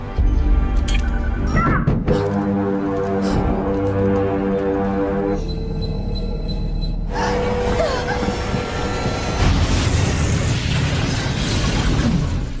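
A bomb detonates in a Fallout story scene, with layered booms, rumbling blasts and metallic squeals over a loud continuous soundtrack that shifts midway into a harsher roaring burst.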